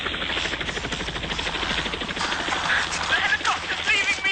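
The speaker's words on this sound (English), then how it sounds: "The helicopter's leaving me behind" Helicopter departing from a Scottish hillside in Lothian, a rapid rhythmic rotor chop holding steady and fairly loud throughout, with wind-like noise over it.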